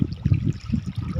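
Water splashes and churns at Deuli Dam in Odisha as people play in it, a steady low burbling wash with repeated splashy surges, fairly close, with no talk over it.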